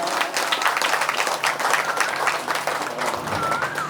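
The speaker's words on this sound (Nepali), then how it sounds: "जोरदार ताली बजाएर स्वागत गर्नुहोस् त" An audience at a religious gathering in Bhadrapur, Jhapa, claps loudly and continuously in a dense, even round of applause lasting several seconds.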